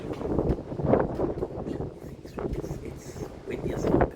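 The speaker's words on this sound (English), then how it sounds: "It's windy as fuck." Gusty wind buffets a handheld phone microphone outdoors, producing loud, uneven rumbling bursts that swell and fade over several seconds.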